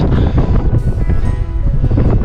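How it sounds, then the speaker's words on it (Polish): Steady winter wind on a mountain pass buffets the microphone with a rough, low rumble and gusty roar, continuous and close, with no voices. "Zerwał się wiatr. Za Bielskiem zaczął tak wiać."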